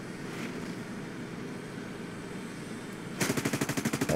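A FJ-4B jet in War Thunder fires its guns in a fast, loud burst of rapid shots near the end, after a steady engine and wind roar.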